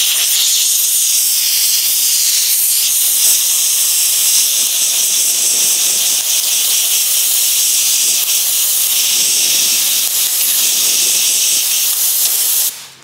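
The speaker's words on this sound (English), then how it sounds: "let's start off with some compressed air and blow until it doesn't flake anymore" Compressed air blasts flaking paint off a car body, an old 2007 Subaru STi under rebuild, as a loud, sustained close hiss with slight wavering for over twelve seconds before cutting off at the end.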